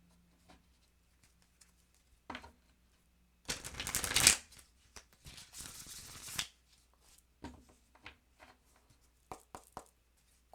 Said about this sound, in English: let's go ahead and start clarifying these cards and see what's going on here